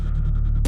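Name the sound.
modulated all-pass filter phase shift in Volcano 3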